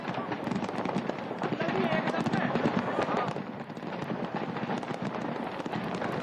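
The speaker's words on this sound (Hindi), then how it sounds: "पटाखे किस तरीके से जल रहे हैं" Firecrackers bursting in a large fire at a Dussehra ground where shops burned, a dense stream of rapid crackling pops under a roaring blaze, loud and continuous, with voices speaking over it.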